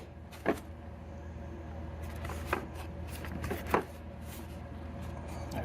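Packaging of a Klein Tools flip impact socket set is opened. Three or four sharp plastic and cardboard crackles and snaps stand out over a low steady background hum.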